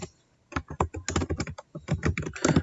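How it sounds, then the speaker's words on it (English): Keys on a computer keyboard are tapped in a quick, irregular run of close, crisp clicks after a brief silence, entering a label into a spreadsheet table, with no one speaking. "we're going to type in total points here"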